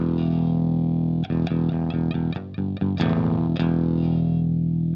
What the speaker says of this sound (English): Let's see what's up with this synth oct.